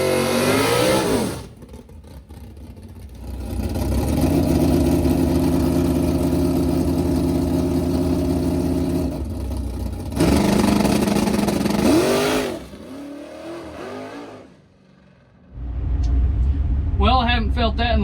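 A race car engine roars loudly through long revving runs with abrupt cutoffs, tires spinning and shaking against the track, then a quieter pause before another sharp burst of engine noise.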